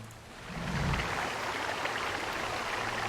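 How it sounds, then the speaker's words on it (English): Steady rushing wash of a small stream in the fantasy role-playing game Pillars of Eternity, carving into a mountain; continuous moderate hiss with a low rumble swelling briefly near the start, no talking. "You hear running water and see a small stream that carves its way into the mountain."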